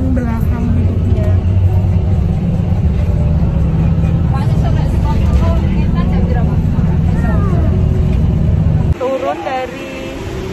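Loud, continuous engine and road rumble inside a bus traveling from Solo Balapan to Tingkir terminal in Salatiga, with people talking over it before the drone drops away near the end.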